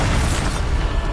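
Bombarda spell blast in Hogwarts Legacy, a loud, dense explosive roar filling the whole short moment with heavy low rumble and no talking.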